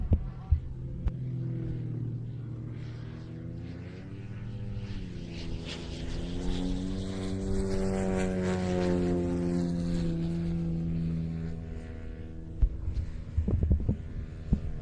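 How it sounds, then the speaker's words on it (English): An airshow aircraft climbing for height drones steadily, its engine pitch slowly rising and falling as it passes at a distance, with a continuous outdoor hum underneath and a few brief knocks near the end. "So Mike takes center stage as Chris climbs for height"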